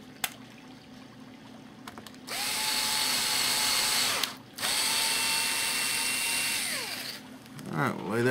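A power drill runs screws into the wing of a Matt Chapman Eagle 580 aircraft under construction, two long steady whining bursts with a brief pause between them, close and fairly loud, with the motor spinning down at the end.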